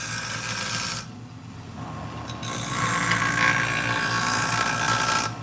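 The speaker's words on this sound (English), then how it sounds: "It makes a lot of noise because it's a diamond wheel." A diamond wheel grinds the blades of a pair of shears, a loud, close, continuous abrasive hiss that drops away briefly as the blade lifts off, then returns strongly.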